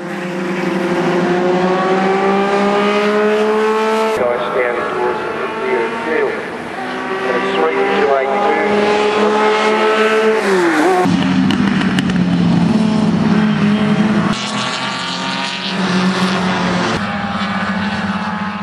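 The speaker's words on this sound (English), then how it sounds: "Historic race meetings are a chance to see classic racing machines once again driven at speed." Classic historic racing cars at speed on a Sydney circuit, their engines loud and close with rising and falling pitch as cars pass and shift gears one after another.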